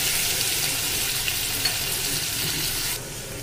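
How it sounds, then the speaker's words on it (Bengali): Poppy seed and cashew paste sautéing in hot oil for doi katla fish curry, a steady close hiss of frying with faint occasional pops, dropping slightly in loudness near the end. "আবার এটা আমি কিছুক্ষণ 2 থেকে 3 মিনিট সাঁতলে নেব।"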